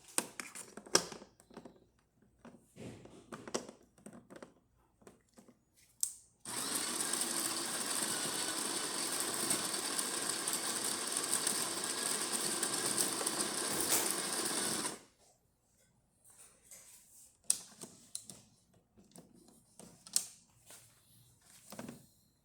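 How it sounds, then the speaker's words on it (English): A serviced DeLonghi Specialista espresso machine runs its pump for a test shot, a steady loud buzzing hum lasting about nine seconds, framed by scattered clicks and handling knocks before and after. "So I like to test those machines in espresso."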